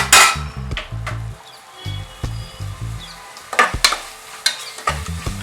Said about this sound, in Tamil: பச்சை வாசனை போக நல்லா இதையும் சேர்த்து நல்லா வதக்கிக்கலாம்